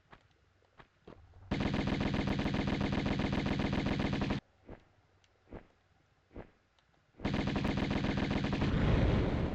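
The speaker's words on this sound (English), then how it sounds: "Yeah, Uzis in this level" Uzi fire in the 1996 Tomb Raider game: two long, loud sustained automatic bursts of rapid shots, separated by a few short isolated pops, with no talking.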